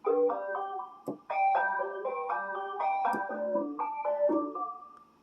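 A DRC duophonic synthesizer emulating a Roland Juno plays sustained droning chords, bright layered tones shifting between notes in steady phrases with brief gaps, loud and close with no voices.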